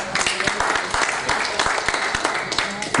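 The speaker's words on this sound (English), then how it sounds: "One last warm round of applause for our friends Sarah and Sarah." Audience applause at a poetry-in-translation literary festival event, a dense, steady patter of many hands clapping throughout, fairly close and loud, with some voices mixed in.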